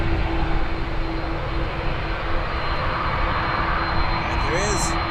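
Airplane at Toronto Pearson airport, a steady, loud broadband engine roar running through the whole stretch. A faint rising whine appears near the end, and someone talks over it.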